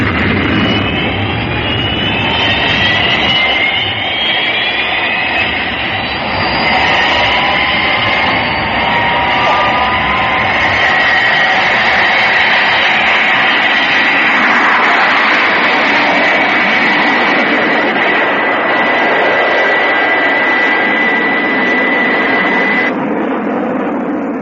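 The Fireflash aircraft's jet engines roar at full takeoff power, a loud, sustained whine and rumble with rising tones, steady throughout before cutting off near the end.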